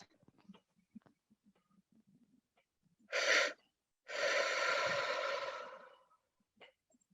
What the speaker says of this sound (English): we're just going to take a nice deep breath